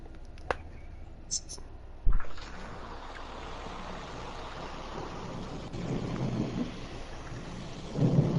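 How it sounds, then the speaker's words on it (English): Steady rain hiss heard through an open window, with a low rumble of distant thunder, a few soft knocks near the start, growing slightly louder toward the end. "I'm gonna open the window. Listen to all that rain."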